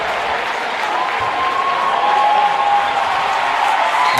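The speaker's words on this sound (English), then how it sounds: "the Lancer crowd really getting into it here" A basketball crowd of Lancer fans applauds and cheers steadily, a dense wash of clapping and shouting that holds loud throughout.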